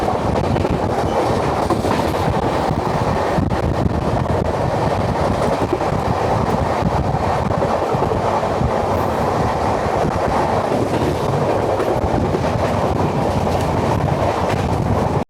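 A Howrah to Puri festival special passenger train rolls along the rails, with a loud, constant rumble and rhythmic clickety-clack heard from inside the carriage throughout.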